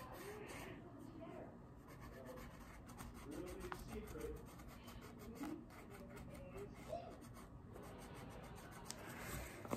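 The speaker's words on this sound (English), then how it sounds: "with a colored pencil, I just write a little yellow star in the corner" A colored pencil drawing a small yellow star on a DIY trophy plaque gives a soft, continuous scratchy rubbing, faint and close, with short repeated strokes.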